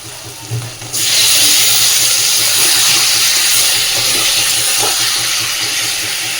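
Bombay duck (lote) fish pieces dropped into hot oil in a pan, a sudden loud burst of sizzling that holds as a dense, sustained hiss and slowly eases off.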